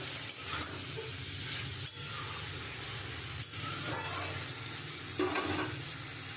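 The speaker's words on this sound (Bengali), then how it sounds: "এবার আমি জল দিয়ে দেবো।" Water poured into a pan of soybean curry makes a continuous loud hiss and sizzle, broken by brief scraping stirs, with no voices.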